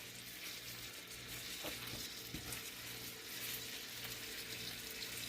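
Pork chops browning in a frying pan, a soft, continuous sizzle with occasional faint clinks and scrapes, quiet and steady with no talking.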